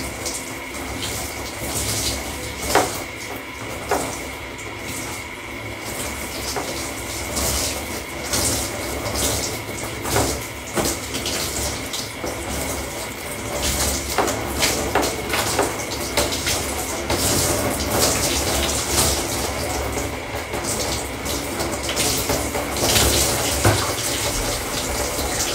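Warm tap water runs steadily in a bathroom shower while conditioner is rinsed from hair, a continuous close splashing rush with shifting gushes and no talk.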